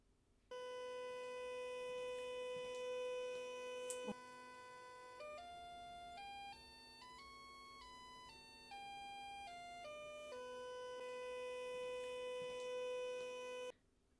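A demodulated signal received over an optical fiber link in a telecom lab plays as steady electronic tones that step up through a rising-then-falling sequence of pitches before returning to a constant tone, fairly quiet and without talk.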